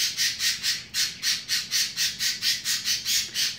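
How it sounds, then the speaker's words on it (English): A bird squawks in a steady, rapid series of about fourteen harsh, evenly spaced calls, loud and close with no other sound. "Listen to that bird."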